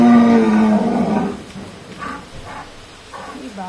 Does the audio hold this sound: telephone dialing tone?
no